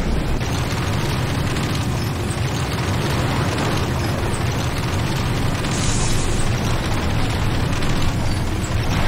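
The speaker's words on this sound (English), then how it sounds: "Nod, Tiberium Refinery under attack." Continuous loud rumbling blasts and booms from a Tiberium Refinery under attack in the Renegade video game, dense and sustained explosions throughout without pause.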